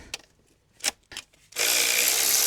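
A power tool undoes bolts on an MGB engine during clutch arm removal: a few short mechanical bursts, then a sustained loud buzzing run for the final second.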